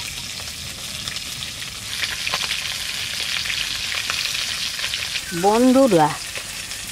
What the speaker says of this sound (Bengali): এবার ভালো করে আমি ঘাটায় নেব।